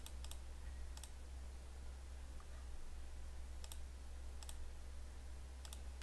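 A computer mouse clicks while website elements are deleted in a site builder, giving sparse sharp clicks in small pairs and clusters over a quiet background.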